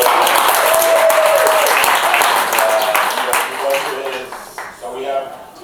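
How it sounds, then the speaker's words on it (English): An audience at a lifetime achievement awards ceremony at Boricua College in New York claps loudly and steadily, a dense wash of applause that thins slightly toward the end, with voices and faint tonal pings mixed in. "He has been given a round of applause."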